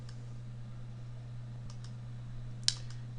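A single sharp computer mouse click lands near the end, clicking Install now during Windows 7 and Windows 8 setup, with a steady low hum running underneath and no talking.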